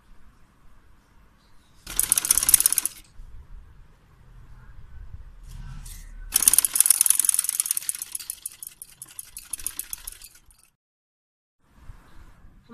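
A sewing machine stitching fabric for a small girl's frock, in two bursts of rapid mechanical clatter separated by quiet handling sounds, close and fairly loud.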